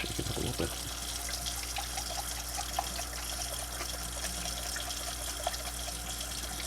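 Warm water running from a tap into a can of beans to rinse them, a steady close splashing stream with a few small drips and knocks.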